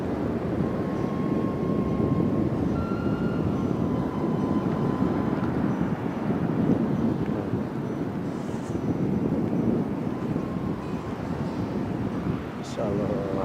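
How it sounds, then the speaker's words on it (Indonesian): Strong wind at Batu Hiu beach in Pangandaran, loud continuous buffeting roar across the microphone, steady throughout with a faint voice underneath. "Dan ini anginnya sangat kencang sekali"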